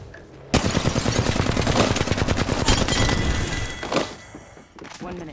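Loud bursts of automatic weapon fire in the battle royale shooter Apex Legends, rapid close shots in a sustained stream with a brief lull near the end, heard alongside some speech.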